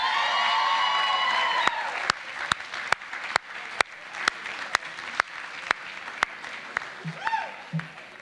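An audience at a school district staff awards event applauds the 20-year award recipients. The dense clapping and cheering fade out, and then a few loud, isolated claps ring out one by one.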